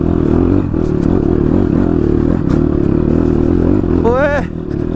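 A motorcycle arrives with a steady, loud low engine drone and some clattering, and a voice rises briefly near the end.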